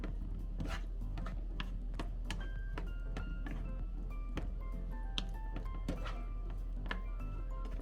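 An Italian-style cabbage dish is tossed in a bowl, its utensil clicking and tapping against the bowl in quick, uneven strokes. The taps are faint and close, set over a low steady hum.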